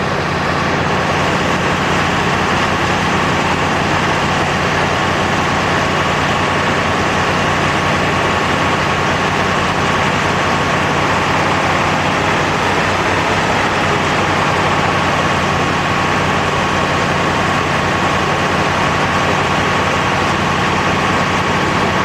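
Carburetted engine running at a steady fast idle of 1800 RPM, a constant close mechanical drone with no variation and no voices.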